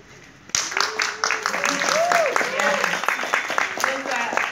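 Applause from an audience at a book tour gathering in Nairobi bursts in suddenly and continues as steady clapping, with voices cheering and talking over it.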